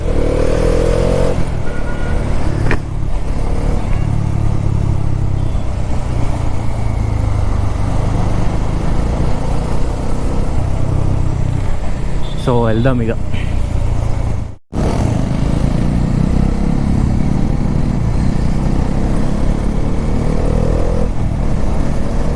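Engines of three motorcycles, including a Bajaj Dominar 400, rumble steadily nearby on a road, with a brief horn-like tone partway through and a short voice near the end.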